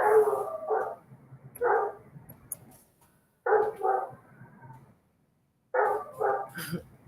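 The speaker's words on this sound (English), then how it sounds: "My dog." A pet dog barks in short clustered bursts, a few yips at a time with pauses between, moderately close in a quiet indoor room.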